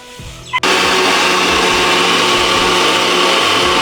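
A kitchen grinder switches on with a sudden loud roar and keeps running steadily at full power, blending ingredients for a beef tripe curry.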